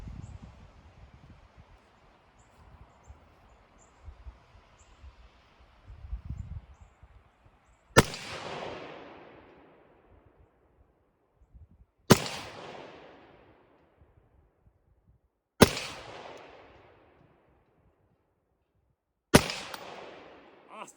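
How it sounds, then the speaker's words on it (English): An AR rifle fires four loud, sharp shots outdoors, about four seconds apart, each crack trailing off in a long echoing decay after a quiet stretch of faint rustling. "I am loaded and my safety is off. So I'm only going to be shooting 4 times."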